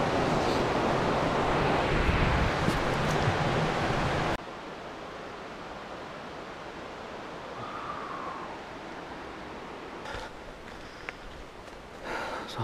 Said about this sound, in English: Really, all you hear is just the river